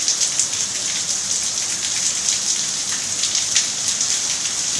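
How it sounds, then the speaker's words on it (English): A nightly evening rain downpour over a jungle garden in Puerto Vallarta, a dense steady hiss of drops on leaves and surfaces with no voices. "A nightly downpour."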